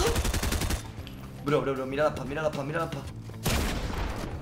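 Bursts of rapid gunfire from the video game Fortnite open and close the passage, with someone talking excitedly in between.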